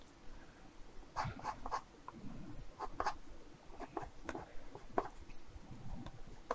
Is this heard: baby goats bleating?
no